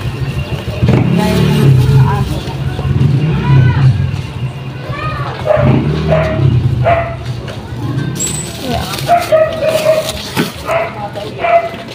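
A dog barks and yips in short bursts amid a busy street scene with passing vehicles and people talking nearby, the barks partly under the chatter.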